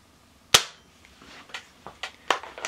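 A Diana Mod 6 air pistol fires a single sharp, close crack during a chronograph shooting test, followed by a few lighter mechanical clicks.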